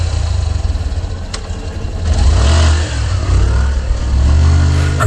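A motorcycle engine revs hard at night, a deep rumble climbing and surging in loud waves after a rough idle, with no voices over it.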